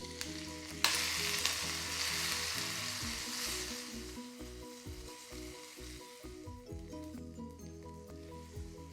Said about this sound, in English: Shallow fry paneer.